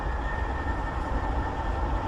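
A train rumbles steadily nearby, a low continuous roar with a faint tonal whine riding on top, no voices present.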